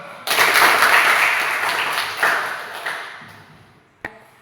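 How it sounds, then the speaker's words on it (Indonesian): Students in a Christian religious education class clap for a classmate, a burst of many hands that starts abruptly, fades over a few seconds, then ends with a single sharp clap. "Tepuk tangan dulu untuk temannya."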